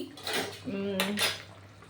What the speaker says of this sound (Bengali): এইটা ঢেকে দেবো হ্যাঁ এই ঢেকে দিলাম